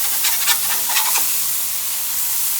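A smashburger patty flipped on a Blackstone griddle sizzles loudly and steadily, with a few scraping, spattering bursts in the first second before it settles into an even hiss.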